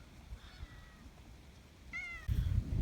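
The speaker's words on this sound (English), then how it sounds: "There's a cat." A single short cat meow, clear and fairly close, rises over a quiet outdoor background on a mild winter day, followed by soft thumps and rustling nearby.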